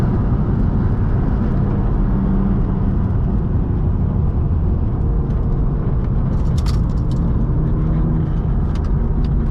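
A car driven at full throttle along a canyon road, its engine a steady, loud, dense roar heard from inside the cabin for the whole stretch, with no voices.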